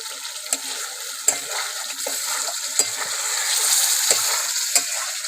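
Spice masala frying in oil for a Bengali doi katla curry, a bright continuous sizzle broken by occasional sharp clicks of a spoon stirring the pan, close up and with no talking.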